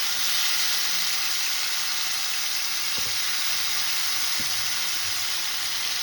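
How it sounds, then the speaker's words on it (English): Tandoori lamb chops fry in an uncrowded pan with a steady, loud broadband sizzle, with a couple of faint knocks partway through. "You don't want to overcrowd the pan because you don't want this to boil. You want this to fry."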